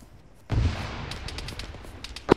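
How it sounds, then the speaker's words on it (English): Distant explosions and gunfire from a large ArmA 3 PvP battle, a rumbling burst followed by scattered crackling shots and a sharp loud blast at the end. "there's a shitload of explosions"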